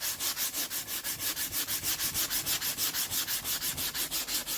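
A Mirka Mouse Rocket sander sands a sassafras guitar neck in a steady, fast rhythm of close rubbing strokes, even and unbroken, with no talking.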